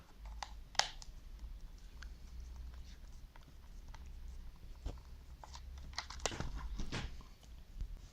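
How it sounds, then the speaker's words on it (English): A screwdriver works screws out of a plastic RC car remote controller, giving scattered small clicks and ticks with a few sharper snaps over quiet background, close by. "So now I'm taking all of the screws, and so let's take these cells out and open it up."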